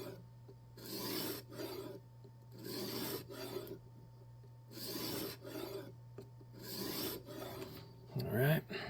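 A knife blade is stroked across a stone on a jig sharpening system in a rhythmic series of raspy passes, about eight strokes with short pauses between them, close and clear over a low hum.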